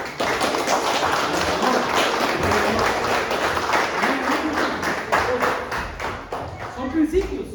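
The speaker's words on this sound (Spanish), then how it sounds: "Denme un aplauso." Loud applause from a church congregation rings out steadily for several seconds, dense clapping with a few voices mixed in, easing slightly near the end.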